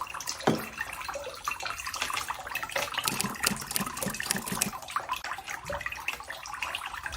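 Water is poured into a houseplant pot, a continuous splashing trickle close to the listener that lasts the whole stretch without pause.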